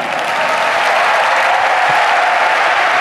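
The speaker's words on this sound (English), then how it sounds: "I'd like you to applaud if you like babies" A keynote audience at INBOUND 2014 applauds in a dense, continuous wash of clapping. The applause is loud and sustained throughout, with no talk over it.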